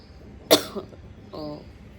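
A single sharp wet, phlegmy cough, followed shortly by a softer throat sound and a brief voiced murmur, in a quiet room.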